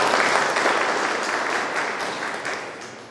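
Audience applause at a product training seminar in a hall, a thick, loud burst of clapping that slowly tapers toward the end.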